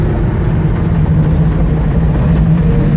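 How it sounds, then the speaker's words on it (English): A 1968 Chevy Camaro engine with Flowmaster exhaust idles steadily up close, a loud, continuous low rumble with no talk over it. "Engine started up nicely"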